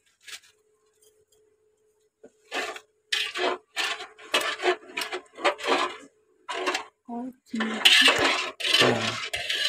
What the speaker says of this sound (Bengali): চিনি মিশানো হচ্ছে